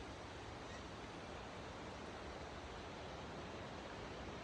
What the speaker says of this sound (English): You can hear running water.